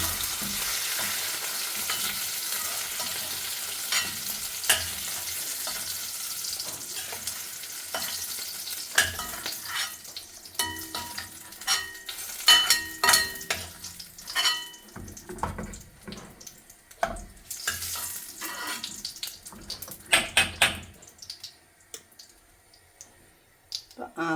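Onion and capsicum frying in oil in a pan for a gravy, a steady sizzle with scattered clicks and stirring scrapes, louder at first and thinning toward the end, with brief tap-water sounds mixed in.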